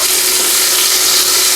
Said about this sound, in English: we're still searing up. We're just going to keep sizzling, keep searing.